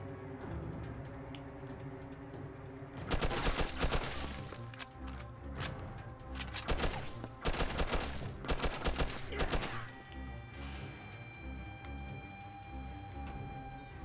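Bursts of gunfire from the video game Mafia 2, with clustered volleys of shots mid-clip and quieter ambient sound before and after.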